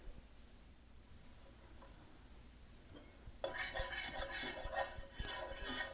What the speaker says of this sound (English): I'm just going to whisk this in until all that flour absorbs up all that grease and butter